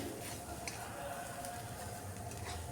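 Fish sautéed with spices in a pan, Kerala style, a faint continuous sizzle with soft stirring and occasional light scrapes.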